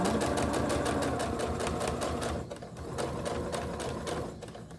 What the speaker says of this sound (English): start sewing these pieces together